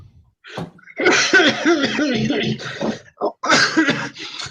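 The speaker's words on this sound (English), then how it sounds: "It's just a coughing fit." A harsh, raspy burst of coughing and throat noises, close and loud, running almost continuously for several seconds with brief gaps.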